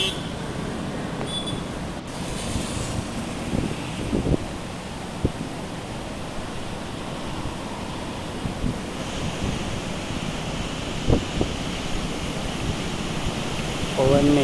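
Storm wind from a cyclone blows in a continuous rushing roar with gusty swells and bumps of buffeting against the microphone, sustained over the whole stretch.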